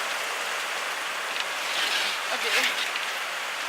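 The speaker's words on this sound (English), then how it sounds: "it's raining bricks right now" Heavy tropical storm rain pours down in St. Lucia, a dense, steady hiss of drops on surfaces close by, with a brief spoken word over it.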